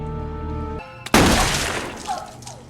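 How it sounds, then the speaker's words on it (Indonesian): A single sharp gunshot in a psychopath film cracks out over a musical tone, followed by a rumbling echo and a scattered crash that slowly fades. "Tembakan Nicole ternyata meleset dan malah menghantam jawer kuping Pak polisi."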